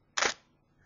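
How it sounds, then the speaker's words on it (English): A digital single-lens reflex camera's shutter release fires once up close on a desk, one sharp mechanical click lasting about a fifth of a second, followed by quiet. "I'm going to press the shutter release"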